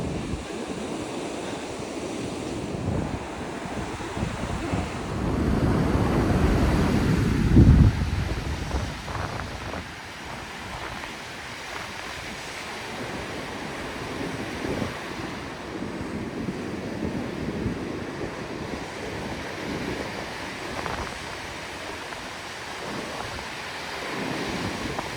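Waves wash onto a beach at Bournda National Park under steady, gusting wind that buffets the microphone. The surf swells louder for a few seconds, then settles into a continuous rolling roar with no talk.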